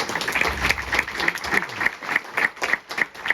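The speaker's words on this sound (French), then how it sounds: "On peut applaudir la famille" Audience clapping in a hall at a French Téléthon charity event in Saint-Pierre-du-Chemin, a steady dense round of applause throughout with a faint voice beneath.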